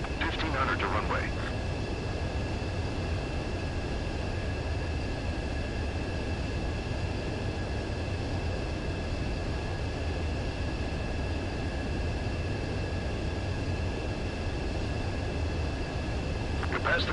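Steady, broad roar of a jet engine as a jet aircraft makes a visual landing on a runway in a flight combat video game, continuous and fairly loud throughout, with a radio voice speaking over it.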